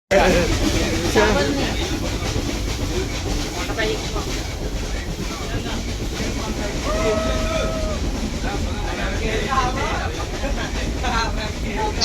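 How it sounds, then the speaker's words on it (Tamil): A train on the Mettupalayam to Ooty mountain railway rumbles steadily along the track with wind buffeting the microphone, a brief whistle-like tone rising midway over the continuous rolling noise. "இந்த ட்ரெயின் மலைப்பகுதியில் கடந்து போதும்."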